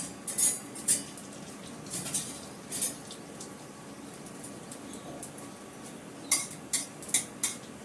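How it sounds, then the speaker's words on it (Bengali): A steel spatula clinks against metal utensils in a kitchen, a few sharp bright clicks near the start and a quick cluster of light metallic taps toward the end, close and fairly soft with no talking. "আমি এর জন্য একটা স্টিলের খুন্তি বার করে দিই।"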